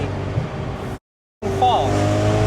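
A supercharged 630 bhp Audi RS4 Avant accelerates hard in second gear, its engine a loud, droning roar from inside the car that cuts out briefly to silence before resuming.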